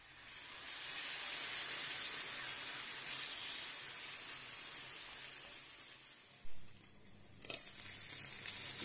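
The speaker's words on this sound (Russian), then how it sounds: "Теперь на этой же сковородке мы слегка обжарим нашу курочку." Chicken frying in a pan for a quiche gives a steady, soft sizzling hiss, with a brief clatter and some stirring scrapes near the end.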